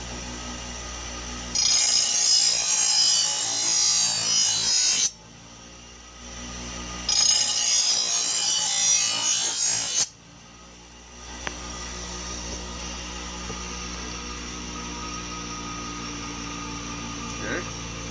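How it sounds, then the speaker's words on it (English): A lawn mower blade is sharpened with a fine, higher-grit stone in two loud, steady grinding bursts of a few seconds each, separated by a short pause and followed by quieter shop sounds. "I'm going to use my smoother stone here,"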